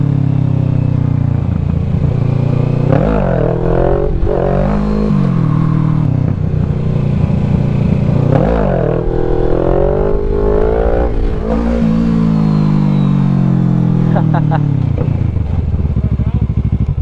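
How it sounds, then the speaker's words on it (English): A 636 stunt motorcycle revs hard during a wheelie, its engine loud and close with repeated rising and falling pitch sweeps and sustained high revs throughout. "That was not a bad wheelie right there."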